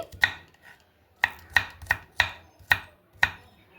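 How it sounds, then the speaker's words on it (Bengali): Onions chopped with a knife on a cutting board, seven sharp, evenly spaced knocks with a short pause after the first, close and crisp with no talk. "পেঁয়াজটাও আমি ছোট ছোট এইভাবে কেটে নিচ্ছি"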